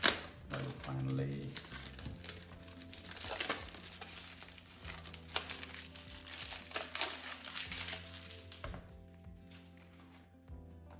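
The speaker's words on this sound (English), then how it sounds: "The packaging is so intact that it's hard to come off." Packaging of a DJI Osmo Pocket 3 Creator Combo being unboxed, close crinkling, tearing and scraping of plastic and cardboard with a few sharp clicks and taps, under occasional quiet talk.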